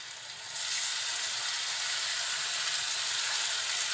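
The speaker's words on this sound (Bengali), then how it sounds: "তেলের সাথে মশলাটা খুব সুন্দরভাবে কষিয়ে নিব" Garlic paste and onion fry in oil with a bright, steady sizzle that jumps to full loudness after a quieter first half-second, then hisses evenly and close.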